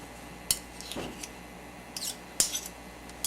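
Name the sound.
using a knife to scoop tablespoons of ingredient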